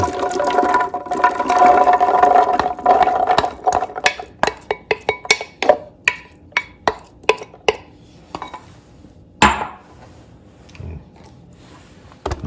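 A rushing pour of hard corn kernels clatters into a blender jar holding some water, then tapers into scattered, separate taps and clicks, with one louder knock near the end.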